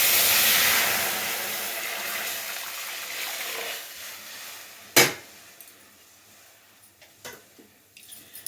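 Boiled milk poured into a pan of fried sabudana for kheer gives a soft, rushing hiss for several seconds, then fades into a sharp knock and a few quiet clinks.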